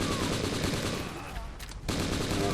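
Rapid M4 rifle fire from the video game M.I.A.: Mission in Asia, a loud continuous burst that cuts out briefly near the end before resuming.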